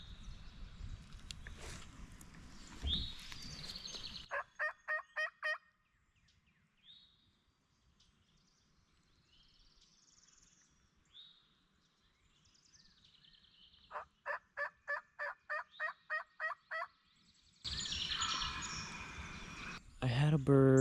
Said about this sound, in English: I heard one gobble much further away